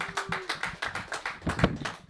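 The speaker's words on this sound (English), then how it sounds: "Let's give them another round of applause." Audience applause after a band's set at a live music event, a steady patter of many hands clapping at moderate volume, swelling briefly near the end with a few louder claps.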